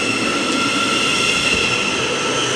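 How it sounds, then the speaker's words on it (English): A Class 700 electric train pulling into Harlington station on the Midland Main Line, a loud, steady, sustained roar with a high tonal whine held throughout and no pauses. "Pulling in behind it is another 700 heading to, I think it's Brighton from Gatwick Airport."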